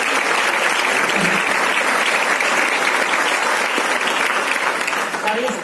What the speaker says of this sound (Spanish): Podéis aplaudir